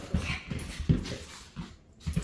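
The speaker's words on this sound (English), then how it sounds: "You licked your own and now you're licking Bodie's" Dogs licking on a yoga mat, with repeated short wet lapping and snuffling bursts close by, recurring irregularly about every half second with no talk.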